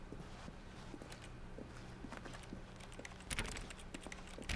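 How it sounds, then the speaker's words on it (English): Keyboard typing in The Stanley Parable, quiet irregular clicks and taps scattered across the clip, growing denser and a little louder toward the end. "It sounds like I'm typing now."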